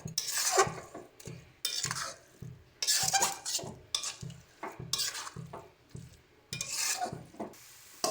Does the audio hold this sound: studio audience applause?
no